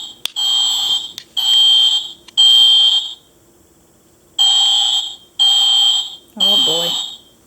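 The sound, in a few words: toy fire alarm in an American Girl doll classroom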